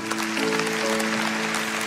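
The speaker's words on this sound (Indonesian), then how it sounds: "kasih tepuk tangan untuk para dokter ini" A congregation at a church service claps for the doctors in attendance, a soft, even wash of applause under a sustained tonal hum, with no clear voices.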